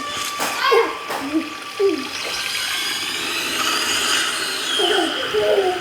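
A waterfall and river rush steadily through a forest near a hillside temple, a continuous broadband wash of water with brief splashing bursts and faint voices mixed in.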